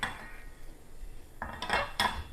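A utensil scrapes and stirs spices and dried chilli in a pan, with a few light metallic clinks near the end. No one speaks.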